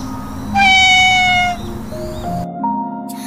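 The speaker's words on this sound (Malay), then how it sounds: "Bunyi kucing?" A cat stuck up a three-metre tree meows loudly in one long drawn-out cry, then gives a shorter, softer meow over a steady background tone.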